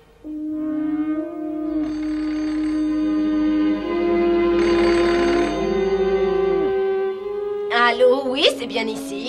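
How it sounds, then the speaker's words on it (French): A cartoon telephone rings in long sustained electronic tones that slide in pitch, loud and alone, before a short burst of louder, jumbled ringing at the end. "Dis-moi vite si c'est encore un coup de téléphone pour Ricky que j'aille le chercher."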